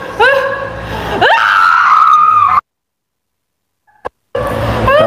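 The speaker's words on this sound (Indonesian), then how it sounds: "Tidak usah teriak-teriak." A person screams in loud, strained, rising bursts at close range, then breaks off into sudden silence with a brief click before the noise returns.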